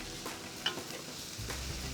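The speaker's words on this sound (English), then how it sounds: "Nice sizzle factor there." Leek and bacon sizzle steadily in a hot pan, a dense crackling hiss with occasional stirring scrapes, close and continuous.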